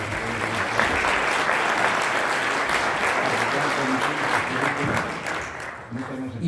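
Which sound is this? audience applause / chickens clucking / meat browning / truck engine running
audience applause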